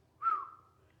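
A person whistles one short, rising-then-level note, a clear, close imitation of a thrush's call, alone against a quiet background.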